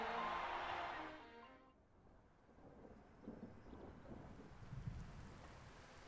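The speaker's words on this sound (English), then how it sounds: "Oh, of course it's gonna rain." Rain and thunder in the video game Tokyo Mirage Sessions: a loud rolling thunder burst opens, then fades into steady rain hiss with low rumbles and soft thuds.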